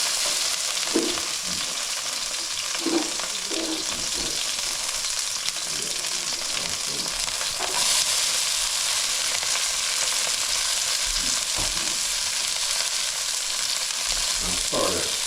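Food sizzles and crackles steadily in a hot frying pan while being stirred, with a few soft utensil scrapes and clicks over a constant close hiss.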